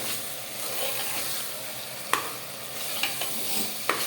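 Mutton with spices fries in a pan while being stirred, a continuous close sizzle broken by several sharp scrapes and knocks of the spoon against the pot.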